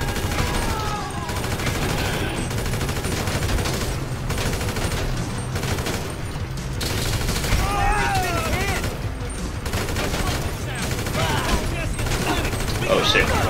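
Gunfire in GTA 5 crackles in bursts over a dense, loud game soundscape, with voices talking over the shooting throughout.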